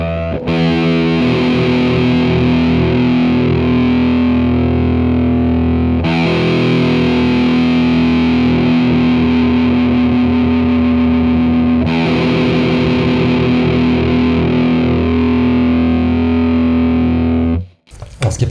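An electric guitar through distortion sounds its low E string with a ringing B resonance while being tuned. Three loud, sustained notes are struck one after another, each ringing about six seconds before a sharp cutoff, with no talk.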